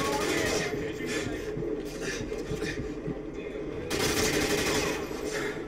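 Rapid assault rifle fire rattles continuously through a Call of Duty Modern Warfare 2 match. The dense bursts swell again near the end.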